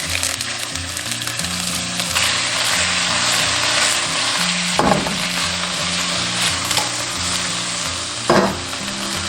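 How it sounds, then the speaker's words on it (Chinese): Steady loud sizzling of abalone frying in a hot pan, with a couple of brief scraping stirs partway through. "继续加入鲍鱼煎"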